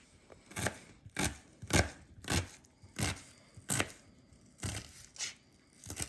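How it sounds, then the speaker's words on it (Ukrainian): Onion chopped into fine cubes with a knife on a cutting board, about ten crisp, evenly spaced chops with brief pauses between them, close and clear, with no talk. "Цибульку нарізаємо мілким кубиком."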